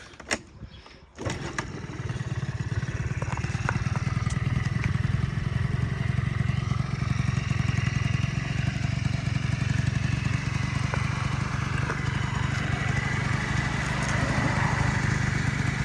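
A Honda Tact AF-51 Stand Up scooter engine, imported from Japan, is started with the kickstarter and then runs at a steady idle. The loud, continuous two-stroke drone carries on alone after a brief rattle of the kick at the start.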